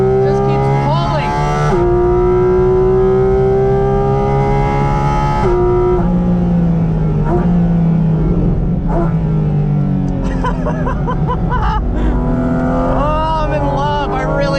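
A Porsche Cayman GT4 RS engine, rated at 493 horsepower with a 9,000 rpm redline, revs hard with a loud, tonal note that climbs and falls in pitch several times across the stretch.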